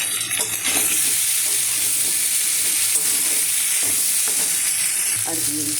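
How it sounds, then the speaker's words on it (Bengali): Pumpkin with chili powder fries and gets stirred in a pan, giving a steady loud sizzle with scraping stir strokes and occasional soft clinks throughout. "দেখুন আমি সুন্দর করে কষিয়ে নিয়েছি"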